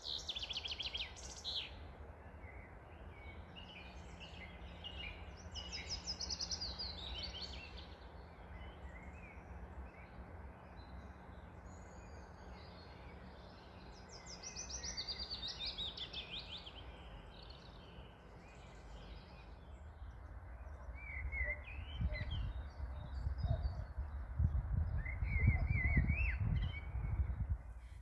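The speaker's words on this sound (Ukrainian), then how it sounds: "Це спів пташок." Birds sing in spring, scattered chirps and calls rising and falling at a moderate distance over a soft steady outdoor background, with a low rumble building near the end and no voices.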